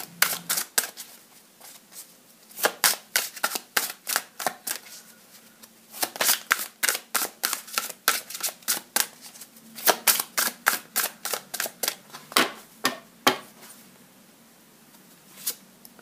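Crisp, rapid riffles of cards being shuffled close by, repeated in rhythmic runs separated by brief pauses, loud and clean with no talking.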